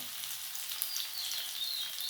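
Onions frying in hot oil in a pan for a home-cooked lunch, a steady close sizzle and crackle throughout, with no talking.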